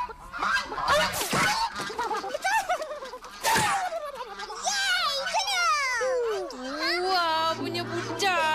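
Geese honk loudly in a village scene while chasing children, harsh nasal calls rising and falling across the clip alongside shouting kids and some laughter.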